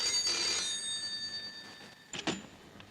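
A telephone rings in a Hindi movie scene with a bright, steady electronic ring that fades out, then a brief clatter follows near the end, with no voices.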